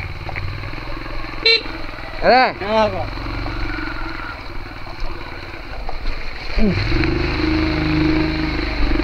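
Motorcycle ride on a wet, slippery village road in the rain, the engine droning close and steady while its pitch swoops up and down with throttle changes, ending in a rising rev.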